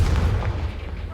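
A Confringo fire spell from the Hogwarts Legacy video game goes off as a heavy booming blast with a deep rumbling low end, continuous through the short moment and loud, with other spell effects around it.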